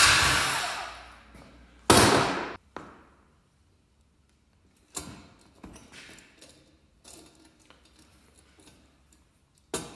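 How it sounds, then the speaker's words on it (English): Impact wrench spinning off the pinion nut on a Jeep Wrangler TJ Dana 30 axle, with a loud sustained rattling burst at the start, a second sharp burst, then several shorter hammering bursts and clicks, close up with no talk. "I'm gonna use my impact wrench to get this off"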